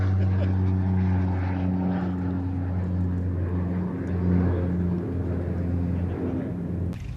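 OV-10 Bronco twin-propeller aircraft droning at an air festival, a steady loud buzzing hum with pulsing propeller tones held for about seven seconds, with a voice talking over it.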